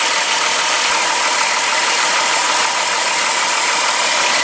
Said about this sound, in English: this is a vacuum leak